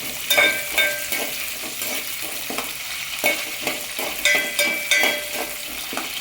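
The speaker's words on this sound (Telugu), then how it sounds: "చూడండి, పచ్చిమిర్చి మంచిగా వేగుతుంది కదా" Green chillies frying in a pan for tomato chutney, a steady sizzle broken by regular scraping stirs of a spatula against the metal, close and clear.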